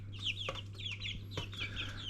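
A backyard hen clucks in short, repeated bursts close by, with a steady low hum running underneath and no talking.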